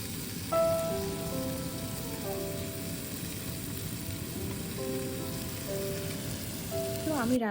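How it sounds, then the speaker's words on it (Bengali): Fish frying in a pan gives a steady, close, rain-like sizzle that holds evenly throughout, with faint tonal sounds drifting in the background. "সেই জন্য আমি মাছটা আগে একটু ভেজে নিলাম"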